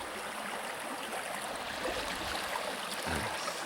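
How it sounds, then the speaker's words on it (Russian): A flowing stream in the Siberian taiga, a steady broadband rush of water running continuously at moderate level, close by, with no voices. "Какой ручей."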